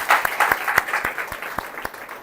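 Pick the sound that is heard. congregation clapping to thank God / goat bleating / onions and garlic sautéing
congregation clapping to thank God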